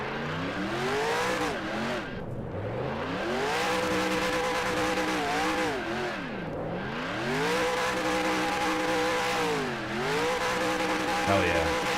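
Race car engine in the NR2003 racing game revving hard through a burnout, pitch sweeping up and down repeatedly over steady tire squeal, loud and continuous for the whole stretch.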